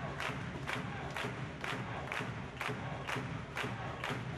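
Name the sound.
spectators cheering in volleyball hall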